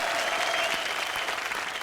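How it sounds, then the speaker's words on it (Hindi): Thunderous studio audience applause fills a live comedy show taping, a continuous dense roar of many hands clapping at close range. "जोरदार तालियां हो जाए चिंटू और करण के लिए"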